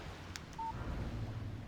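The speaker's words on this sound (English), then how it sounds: "Text message from Barry." A single brief beep sounds from a phone text message alert in the Alan Wake video game, clear but short against a quiet ambient background.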